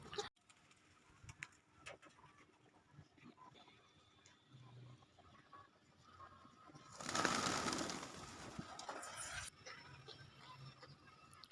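Native pigeons in a loft coo softly and at a distance, with faint ticking and a louder rustling burst partway through.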